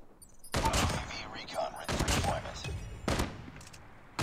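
Rapid gunfire from a gun in the Call of Duty Mobile game, several loud bursts of shots with brief pauses between them, close and dominant.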